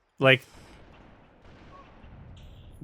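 A single loud sniper rifle shot rings out in Halo: Combat Evolved during a custom multiplayer match, a sharp crack with a short tail, followed by quieter game ambience and faint tones.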